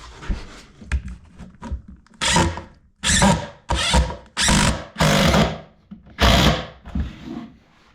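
A power drill held in a trimmer stand runs in repeated loud bursts of about half a second each, separated by short pauses, after some lighter scraping and clicking.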